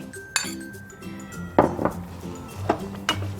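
Vegetables tipped into a pot of boiling water make a few sharp clinks and knocks against the metal pot, spaced irregularly and close up over a quiet background.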